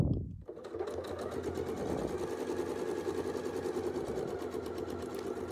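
A domestic sewing machine quilts through dense batting in one sustained run, a steady close whirring hum with rapid needle ticking after a brief start.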